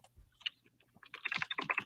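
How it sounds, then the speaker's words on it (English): Rapid computer keyboard typing in irregular bursts, quiet at first with a few isolated key clicks, then a dense, louder flurry of keystrokes in the second half, with no voices. "Sorry for the typing."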